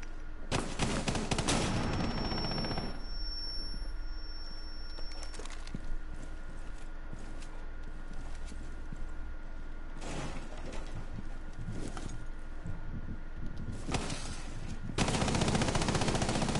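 Sustained gunfire in the Rainbow Six Siege video game, with dense bursts of automatic shots and loud volleys near the start and end, a continuous busy battle din between them, and no talking.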